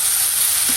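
Jute and gourd leaves fry in a hot pan, giving a loud, continuous hiss of steam and sizzle with no break, alone and close.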